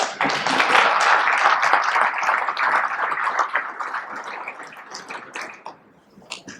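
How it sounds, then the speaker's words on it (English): An audience applauds after a university lecture on oil, gas and environmental law, a dense sustained clapping that gradually thins and fades toward the end. "Round of applause."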